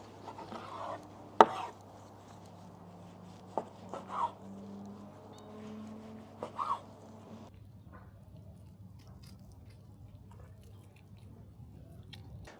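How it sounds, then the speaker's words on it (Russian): A knife chops beef for kazan kebab, producing a few sharp, isolated knocks on a board spaced seconds apart, faint and close over a low steady hum, trailing into quiet. "Мясо нарезали."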